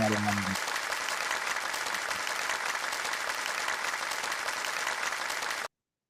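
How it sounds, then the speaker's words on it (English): A brief burst of steady, dense applause from an audience, loud and even, with a spoken voice at the very start before it cuts off. "Ladies and gentlemen, that deserves an applause."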